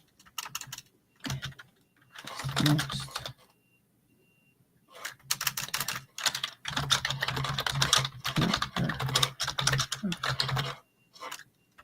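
Hurried typing on a computer keyboard, quick clattering bursts separated by short pauses, close and fairly loud across the whole stretch.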